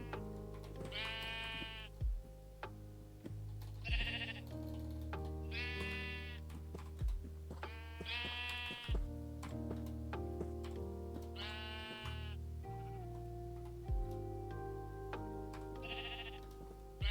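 Repeated sheep bleats from the Minecraft video game, about seven separate calls spaced every couple of seconds over a steady low drone, loud and close with no talking.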